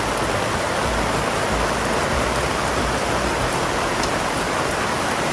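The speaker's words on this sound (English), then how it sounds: "More rain." Steady rain falls in a dense, even hiss on the Pilbara coast of Western Australia near Broome, constant and unbroken throughout with no voices.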